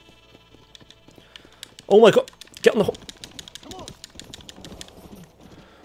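In the Red Dead Redemption video game, a summoned horse trots in with quick, light, rhythmic hoof clops throughout, while a man exclaims loudly over them.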